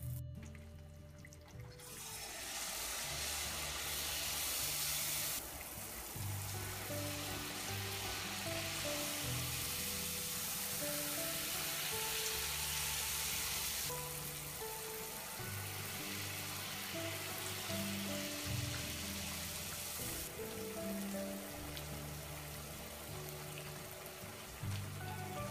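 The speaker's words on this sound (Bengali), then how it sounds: "তেলটা রেডি হয়ে গেছে, এখন আমরা ভাজি করব" Jalebi batter frying in hot oil over medium heat makes a steady, loud sizzle. It crackles densely without a break the whole time, and nobody speaks.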